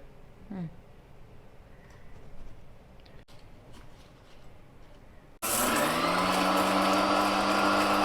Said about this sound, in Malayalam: ഇപ്പോൾ നമ്മളിതാ മിക്സിയിലിട്ട് അടിച്ചെടുത്തതിൻ്റെ ശേഷം ഈ ഒരു പരുവത്തിലായിട്ടുണ്ട്